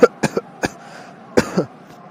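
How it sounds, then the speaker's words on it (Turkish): A man coughs in several short harsh bursts, loud and close, with pauses between them, during a scene where someone has come to apologize to an elevator repairman. "Söyle bakalım niye öksürüyorsun?"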